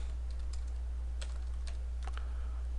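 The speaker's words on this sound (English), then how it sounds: "Just type in your name" Someone types on a computer keyboard in quick, light taps, several scattered clicks over a quiet background hum.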